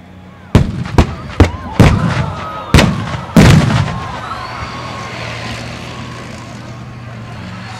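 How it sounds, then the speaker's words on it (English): A rapid series of six loud, booming explosions cracks out in close succession at a military vehicle firepower demonstration with a CVRT Scorpion, echoing and fading into a lingering rumble. "Be ready for some very loud bangs and explosions"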